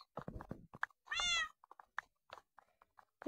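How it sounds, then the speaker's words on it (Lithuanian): A single drawn-out cat meow from the video game Minecraft rises clearly in the middle, surrounded by sparse clicks and tapping sounds. "kačiukas miauksi, kažko nori gal"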